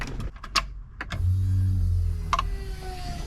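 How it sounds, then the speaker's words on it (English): Electric fuel pump in a Toyota Corolla with a swapped 7K-E engine, switching on after a few clicks and whirring with a steady low hum for about a second, followed by more clicks and a faint tone. "We should hear a pump this time."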